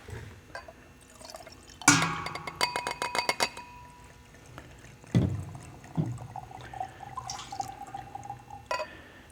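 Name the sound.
pouring mixed wine into sample glasses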